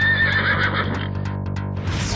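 A horse neighs loudly and close by in a long, wavering whinny that fades out, followed by a few short snorts and rustles, with no talking.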